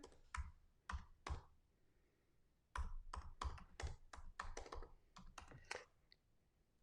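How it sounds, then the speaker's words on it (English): Keystrokes on a computer keyboard: a few isolated clicks, then a quick burst of irregular clattering taps, close and fairly quiet, with no one speaking. "let me just type that in here"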